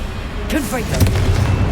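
A Confringo blasting spell goes off in Hogwarts Legacy, a booming burst about midway that rolls into a rumbling low tail, with a brief voice cry just before it.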